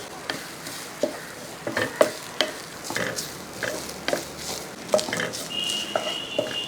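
Ingredients for madhura curry, a sweet Kerala sadya dish, being stirred and fried in a pan over a low flame, with repeated scraping clicks over a soft, steady sizzle.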